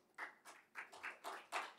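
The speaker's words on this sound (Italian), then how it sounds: "L'applauso è per lei" An audience applauds the speaker at an Italian talk on social change; the clapping is faint and distant, with roughly six or seven distinct, evenly paced claps.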